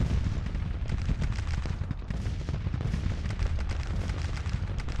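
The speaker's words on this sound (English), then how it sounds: "We've got 7th Corps cannon." Civil War–era cannon and artillery fire in the Grand Tactician strategy game, including 12-pound Napoleon batteries, heard as a dense, continuous rumble of overlapping booms and crackling shots with no talk.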